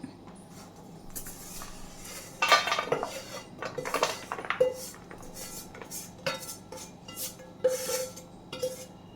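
Hot peanut and jaggery mixture is scraped out of a pan onto a plate: a run of metal spoon scrapes, clinks and knocks against the cookware, uneven and close, with quieter gaps between strokes.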